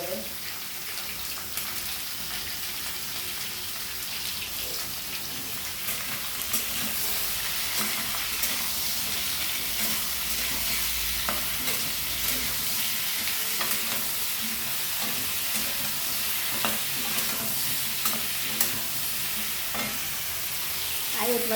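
Ridge gourd frying in a pan, a steady bright sizzle with repeated scraping and stirring knocks close by, and a faint low voice in the background.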